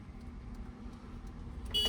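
A car horn sounds briefly near the end, cutting in over a steady low engine hum as the car takes a blind left turn in a narrow street during a driving lesson.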